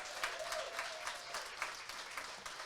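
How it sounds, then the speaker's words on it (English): An audience claps for a sponsor at a mental health panel event, a brief burst of steady applause heard from a short distance. "So we just want to give a round of applause to Sainsbury's."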